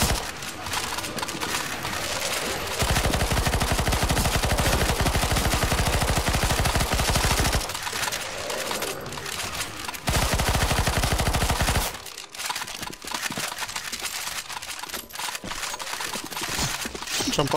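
Rapid automatic gunfire from shooting zombies in CS:GO Zombie Escape on a Star Wars prequel map: loud, dense bursts of shots that run almost nonstop for several seconds, then give way to scattered, sparser firing.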